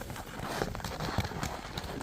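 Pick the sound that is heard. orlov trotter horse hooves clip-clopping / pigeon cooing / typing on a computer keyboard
orlov trotter horse hooves clip-clopping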